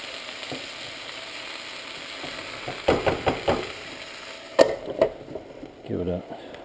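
Greens and root vegetables fry on a burner with a soft continuous sizzle, broken by a few sharp scraping and stirring knocks from a utensil in the pan partway through.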